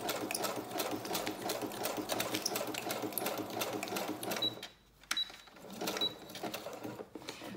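A sewing machine runs steadily, stitching a fabric snippet in a continuous loud whir, then pauses briefly near the end before starting up again with a few shorter runs.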